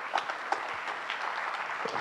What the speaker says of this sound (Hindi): इसमें ताली बजाने वाली कोई बात नहीं थी